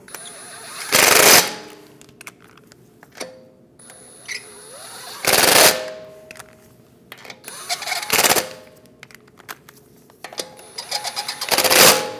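Wheel bolts run onto the front hub of a 2010-2015 BMW X1 xDrive with an impact gun, four loud rattling bursts a few seconds apart, each with clicks and small knocks from handling between them.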